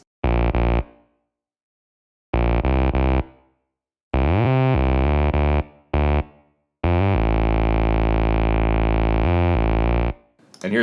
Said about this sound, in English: I'm going to start with the bass just because I think it's the coolest sound in this track.